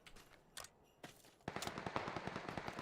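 Rapid bursts of Vector M24 submachine-gun fire in PUBG on the Miramar map: a few isolated shots, then a sustained fast rattle of automatic fire, fairly close with no talk over it.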